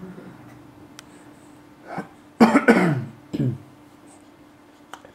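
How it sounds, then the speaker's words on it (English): A person coughing indoors, a few short harsh coughs in a close cluster, with quieter throat sounds before and after. "I bet me coughing sounds wonderful in the video."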